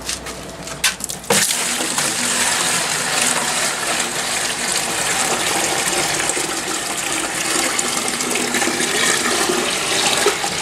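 Liquid nutrient solution is poured from a height into a 15 litre bucket in a Dutch bucket growing system, a loud continuous gushing splash that starts abruptly after a brief clatter and runs steadily without talk.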